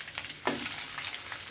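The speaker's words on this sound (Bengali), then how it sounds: "ভেজে নেব একসাথে মাছের টুকরোটা।" Hilsa fish head and pieces fry together in oil, giving a continuous close, bright sizzle with one sharper spatter or stirring scrape partway through, all in a brief stretch.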